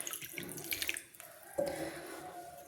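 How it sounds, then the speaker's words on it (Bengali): Water pours steadily onto tamarind in a bowl for a tamarind curry, a close, continuous splashing stream alone with no talk. "প্রথমে আমি তেঁতুলের জল ঢেলে দেব।"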